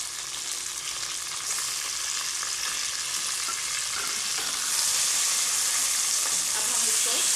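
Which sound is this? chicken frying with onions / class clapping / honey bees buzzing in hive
chicken frying with onions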